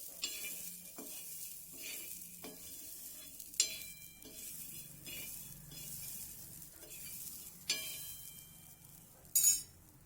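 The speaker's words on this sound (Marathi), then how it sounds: "हे सोले पण आपल्याला छान भाजून घ्यायचे" Fresh pigeon pea seeds roast in a pan on the stove with a soft, steady sizzle, broken by a few sharp clinks and scrapes of a spoon stirring against the metal.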